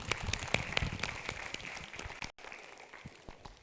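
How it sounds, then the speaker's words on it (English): Scattered applause from a modest university audience honoring a professor, light and somewhat sparse, with a brief gap before a few final claps. "A warm round of applause for Professor Javed."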